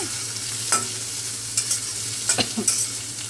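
Soaked chana dal frying in oil, a close steady sizzle broken by several scraping stirs of a spoon in the pan, with no talking.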